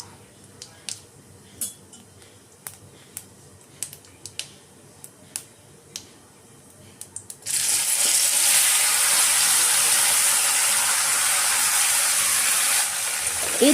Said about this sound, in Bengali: মিডিয়াম হাইতে রেখে আমি ভিন্ডিটাকে 4-5 মিনিটের মতো ভেজে নেব।